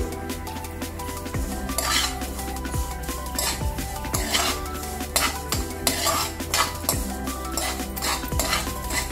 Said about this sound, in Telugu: 2 స్పూన్ల మినపప్పు, 1 స్పూన్ ఆవాలు, 1 స్పూను జీలకర్ర, 3/4 మెంతులు వేసుకుని వేయించుకుంటున్నానండి.